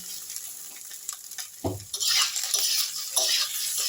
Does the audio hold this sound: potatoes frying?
yes